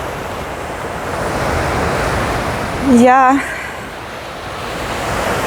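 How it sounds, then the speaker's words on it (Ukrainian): Strong wind roars steadily at the seaside over surf, a broad continuous rush buffeting the microphone, while someone says a single brief word partway through. "Такий вітер, я не знаю, як мене чути"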